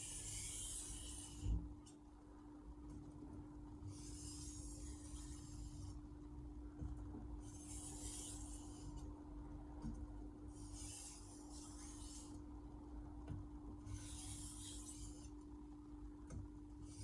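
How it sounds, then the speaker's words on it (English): A VG10 stainless steel blade is sharpened on a Chosera whetstone, giving about five rhythmic rasping strokes, each a bright scraping sweep with short pauses between, close up and steady, with a low hum underneath. "That's the first time I'm sharpening this blade."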